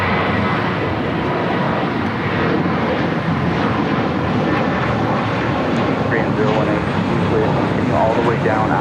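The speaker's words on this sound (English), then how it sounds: "Philippine Airlines, the 777-300ER crossing over" A Philippine Airlines Boeing 777-300ER jet crossing at LAX gives a continuous, loud engine rumble and roar, with people talking over it throughout.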